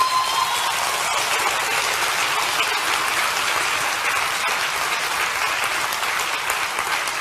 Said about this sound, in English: Shouldn't you give God a good clap,